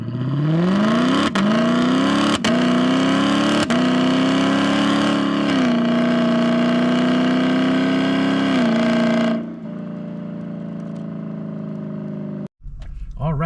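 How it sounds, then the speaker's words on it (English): A Lexus LC 500 engine revs hard through upshifts, the first two quick and the rest slower, each shift marked by a sharp break as the pitch drops and climbs again. The loud, near roar then settles to a lower hum. "I'll do the first two gears are going to be quick shifts, and then the other ones are going to be the slower shifts"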